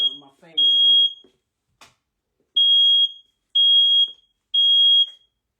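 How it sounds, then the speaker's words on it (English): Household smoke detector sounding sharp, piercing high beeps, one long beep and then three evenly spaced ones, loud and close, with a brief burst of speech before the first beep. "I'm right above the smoke detector"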